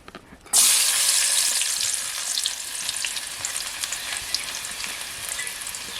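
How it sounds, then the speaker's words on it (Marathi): Chopped onions hit hot oil in a pan over a village wood-fired stove, starting with a sudden loud sizzle that settles into a steady close crackling fry, with no talking. "तेल मस्त तापलंय बघा आवाज मस्त आला कांद्याचा"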